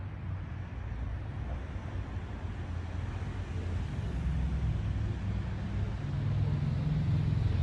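Road traffic passes outdoors as a steady low rumble of vehicles with wind noise, building slightly louder toward the end and continuous throughout.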